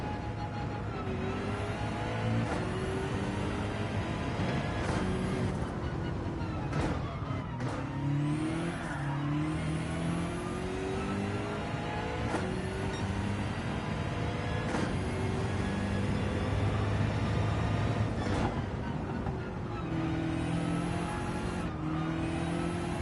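A race car engine in Gran Turismo 7 revs hard and shifts up and down while drifting, holding a loud sustained drone with repeated gear changes, rising pitches and occasional tyre squeal over about twenty seconds.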